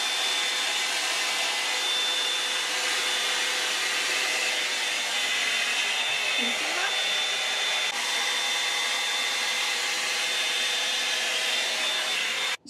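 Elle Magic hot air styler blowing continuously while shaping the ends of hair, a steady, close, loud hiss of rushing air with a faint motor whine, running alone before cutting off at the end.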